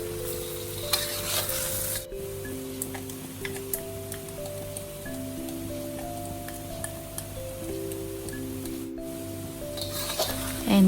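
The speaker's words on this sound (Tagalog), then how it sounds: "Mix the sauce to the chicken" Sauce being stirred into chicken asado in a pan, a steady close scraping and sizzling that runs without a break, with soft background music behind it.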